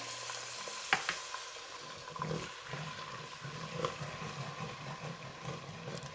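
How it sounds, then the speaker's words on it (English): One cup of red wine goes into a hot pot of beef stew and sizzles, giving a steady close hiss with soft bubbling and a few faint knocks. "now I'm gonna go ahead on and add my wine to this pot"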